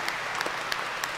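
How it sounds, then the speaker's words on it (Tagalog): A church congregation at a Divine Mercy Sunday Mass claps loudly, a brief burst of dense applause with a few sharper individual claps standing out. "pumalakpak tayo ng malakas"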